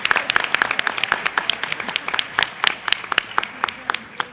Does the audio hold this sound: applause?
yes